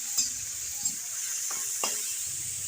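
Boiled red amaranth greens with fried onions are stirred in a pan under a constant steady hiss of frying, with a few faint spatula scrapes and taps.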